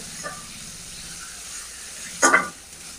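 Spice paste being stirred and fried in oil for a prawn malai curry, a soft continuous sizzle with a faint scrape early on and one brief louder burst of hissing and stirring near the end, no voices.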